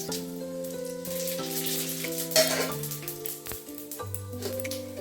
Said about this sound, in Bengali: তেল কড়াইয়ে গরম করতে দিয়েছি জিরে শুকনো লঙ্কা দারচিনি এলাচ